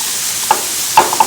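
Buttered bread sizzles as it starts to toast on a griddle beside burgers, a close, steady hiss with a few sharp scraping taps of a spatula.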